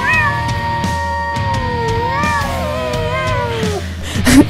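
A house cat meows in long, drawn-out, wavering calls, close and clear, in an indoor room, ending with a short sharper sound.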